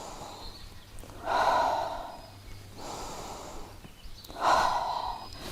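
Slow, deliberate breathing during a relaxation exercise: two audible breath cycles, each a soft inhale followed by a stronger, airy exhale, close and quiet with no talk.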